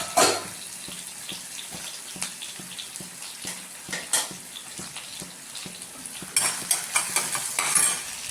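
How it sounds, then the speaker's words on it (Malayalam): Sliced onions are sautéed in a pan, with repeated light scraping and clinking from a metal spoon over a faint sizzle, the stirring growing busier toward the end. "സവാള ഒന്ന് വഴറ്റണം."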